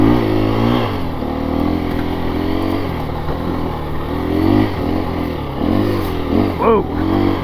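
A 2024 KTM 350 EXC-F dirt bike engine, idle raised slightly above stock, runs and revs steadily up close, with a few rising throttle blips near the end.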